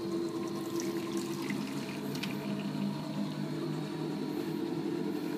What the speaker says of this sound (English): I'm just washing my towels.